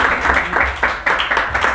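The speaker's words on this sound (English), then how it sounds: "let's give him a round of applause," An audience at a press launch for a BAIC M20 claps in a brief round, with distinct, somewhat rhythmic bursts of hand claps rather than a dense wash.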